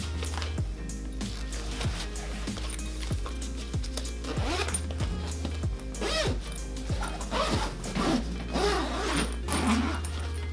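A zipper on the pocket of a DSLR camera bag is pulled in repeated short strokes, giving close, crisp rasps over a steady low hum.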